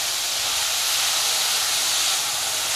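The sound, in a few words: onion being sautéed in a pan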